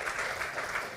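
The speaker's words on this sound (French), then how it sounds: "je demande vraiment de l'applaudir" Brief burst of dense applause from an audience, many hands clapping together at a steady level.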